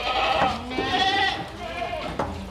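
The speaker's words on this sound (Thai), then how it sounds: "นี่ครับบรรยากาศในฟาร์มแพะ บ้านไอฟาร์มแพะ" Goats bleat on a goat farm, several wavering, nasal cries overlapping at close to moderate distance, with someone talking throughout.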